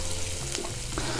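Chopped garlic sizzles and fries in hot oil in a pan, a close, continuous crackle with small stirring scrapes and pops, no voices.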